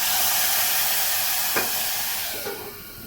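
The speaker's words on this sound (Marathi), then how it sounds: "चरचरीत अशी फोडणी दिलेली आहे" A hot tempering of cumin, asafoetida and curry leaves hits a thin taro leaf curry, sending out a loud, close, broad hiss and crackle that slowly fades, with a couple of faint clinks near the end.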